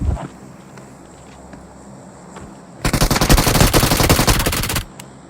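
Rapid P90 submachine gun fire in the mobile battle royale game BGMI, a loud sustained burst of about two seconds cutting in after a quiet stretch of low game ambience.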